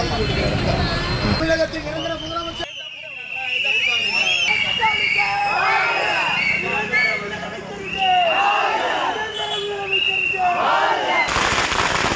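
Strings of firecrackers bursting in rapid crackling volleys at a street celebration in Madurai, loud and continuous, with crowd noise and shouting voices mixed in.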